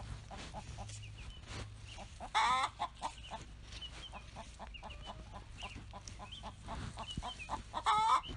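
Chickens cluck and squawk in a shaded backyard chicken pen, a steady scatter of short calls with two louder, longer squawks standing out near the start and end.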